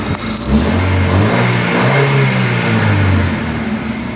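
A Chevrolet Nexia with a 1.6 engine and a handmade silent muffler revs up close, its deep rumble rising and falling in a sustained, smooth surge for several seconds.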